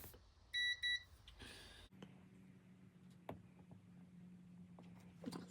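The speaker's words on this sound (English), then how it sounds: "Set the multimeter to resistance and audible." A multimeter set to continuity gives short electronic beeps near the start while a cable on a VW T6 sliding door soft-close retrofit is tested, followed by faint handling clicks and a low steady hum.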